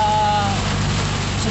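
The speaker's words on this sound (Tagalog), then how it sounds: "Sobrang malakas yung ulan." Heavy rain pours down in a loud, continuous hiss close by, with a faint low rumble beneath and a brief tonal whine near the start.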